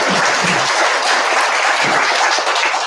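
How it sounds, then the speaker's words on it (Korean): A congregation in a Korean church service gives a loud, dense round of applause, sustained evenly for the whole stretch with no speech over it. "우리 큰 박수 한번 부탁드리겠습니다"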